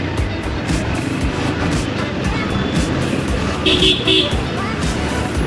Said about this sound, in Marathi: या गाडीचा हॉर्न वाजवला ना